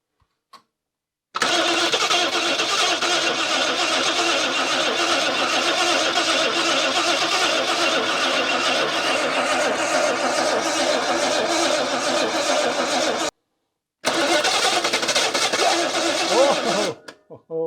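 An old car engine cranks on the starter while its choke is held, churning steadily for over ten seconds, pausing briefly, then cranking again without catching; speech is present.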